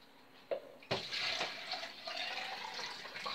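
Cold tap water runs into a container while elderflower champagne is being made: a couple of close clunks, then a steady splashing stream that fills the vessel, with no talking.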